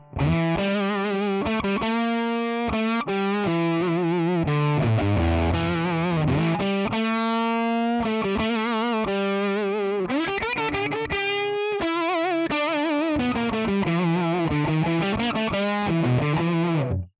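Electric guitar on the bridge pickup through a Tonex Fast Fat amp model, dry without reverb, played alone as a loud, distorted, sustained run of chords and melodic lines over about seventeen seconds.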